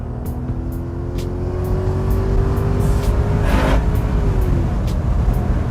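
A Jaguar XK8 V8 engine revs hard under acceleration, a loud rising roar with a steady low drone and a climbing tonal whine, close and continuous for several seconds.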